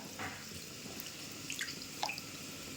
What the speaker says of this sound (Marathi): आपण तांदळामध्ये पाणी टाकून तांदूळ स्वच्छ धुवून घ्यायचे आहे